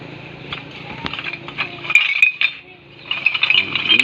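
Scrap items are poured out at a junk shop, metal and glass clinking and rattling in a jumbled cascade with brief sharp clinks, close by and fairly loud, with a short lull midway.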